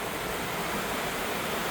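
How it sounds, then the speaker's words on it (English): Minnehaha Falls, a waterfall at the end of a snowy, icy river, gives a steady, loud, broadband roar of rushing water that fills the whole stretch with no break and no voices. "Look at that waterfall."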